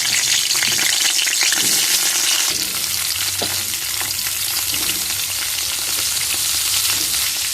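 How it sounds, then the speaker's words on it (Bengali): Cauliflower pieces fry in hot oil in a wok with five-spice seeds and chillies, a loud continuous sizzle with scraping stirs and clatter, close up and without talk. "এবার ফুলকপিগুলো ভেজে নেবো"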